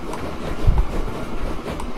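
A train in Train Fever rolls along with a steady rumble and faint rhythmic clacking at moderate volume, with no voices.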